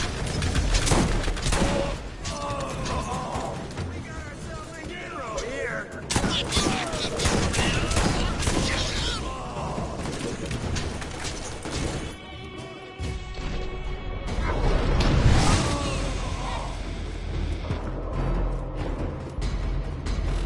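Shotgun blasts from the Borderlands video game, dense repeated booms and crashes layered with game effects and music, loud and continuous with occasional talk over the action.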